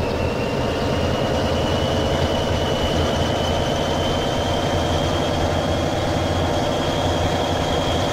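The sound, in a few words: Maz 504 truck engine in Euro Truck Simulator 2 video game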